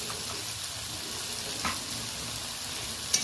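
Ginger paste sizzles as it is added to a kadai of frying dried fish, a quiet, steady hiss with a soft clink near the end.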